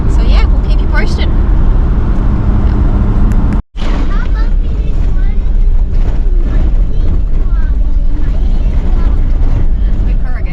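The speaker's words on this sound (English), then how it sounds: "It's been a while since we found a corrugated road." A vehicle driving along a corrugated dirt road near Denmark, Western Australia, giving a loud, continuous rumbling drone with rattling and juddering, one brief dropout partway through, and people talking over it.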